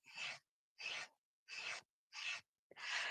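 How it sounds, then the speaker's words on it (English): A pen tip is rubbed on layers of sandpaper fixed to a hardboard handle to sharpen it. Five evenly spaced, close, raspy strokes are each separated by short silences. "This is just sandpaper on a hardboard handle."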